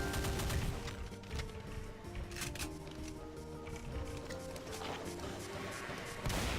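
Rapid bursts of chaingun fire rattle in Doom gameplay with the Complex Doom addon, dense clattering shots and crashes layered over game noise, loud and near throughout.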